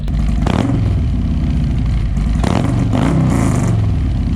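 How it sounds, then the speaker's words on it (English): A 2019 Harley-Davidson Street Glide fitted with a stage 2 cam rumbles loud and close, its deep idle broken by several sharp throttle blips that swell and fall back. "So this is a 2019 Street Glide, and it has a stage 2 horsepower cam on it"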